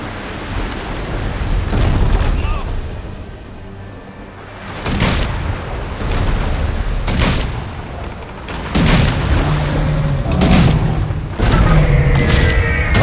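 Gunfire in the video game Risen 3, a series of heavy booming shots spaced a few seconds apart, loud and close, over a continuous rumbling game backdrop.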